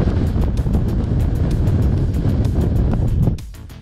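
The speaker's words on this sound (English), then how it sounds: "it's pretty windy up there" Strong wind buffets the microphone on a summit on Snowdon, a steady loud roar that cuts off abruptly near the end, leaving quieter air.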